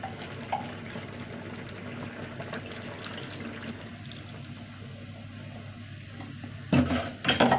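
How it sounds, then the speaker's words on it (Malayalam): Tamarind water is poured into a pot of simmering ash gourd curry, a steady liquid wash running throughout, with a louder clattering splash near the end and no talking. "പുളി ഒഴിച്ചിട്ട് കുമ്പളങ്ങ തിളച്ചു"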